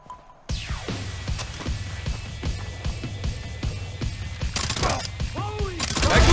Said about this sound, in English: Watch the guy with the machine gun.